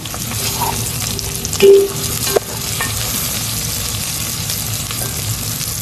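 Chicken frying in a pan for Arabic machboos, a steady loud sizzle with stirring clatter and a brief clink partway through, with no one speaking.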